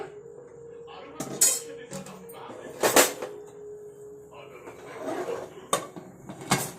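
A pressure cooker lid is pressed shut at home while cooking a fresh field-bean (avarekalu) vegetable sambar. Several short metallic clanks and scrapes of pot and lid sound close by over a quiet kitchen background, with no talk.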